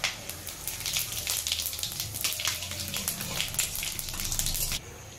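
Dried red chillies, bay leaf and cumin seeds crackle and sizzle in hot oil, a steady close spitting hiss with sharp pops that cuts off abruptly near the end.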